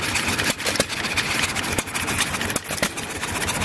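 Several John Deere one-cylinder hit-and-miss stationary engines run together, giving a steady, busy mechanical chugging with irregular firing thumps and clatter, fairly close and continuous, with no talk.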